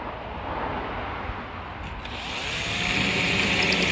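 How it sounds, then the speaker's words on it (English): A power drill bores 20mm holes into a Mercedes Vario camper van's roof, a loud close whine and grinding that rises in pitch and strength toward the end, with no talk. "let's drill some holes"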